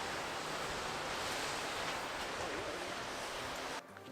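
A waterfall in the Totara Flats backcountry on a rainy camping trip, a steady dense rush of falling water roaring close and loud for several seconds before briefly dipping at the end.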